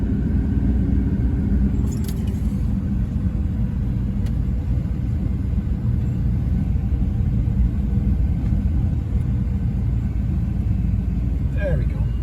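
A car drives along a road past the Revelstoke dam, and a steady low engine and tyre rumble fills the cabin throughout, with a few faint rattles on top.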